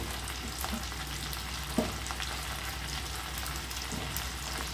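Ridge gourd peel and pieces fry in a pan, giving a soft, steady sizzle close by with one brief clink partway through.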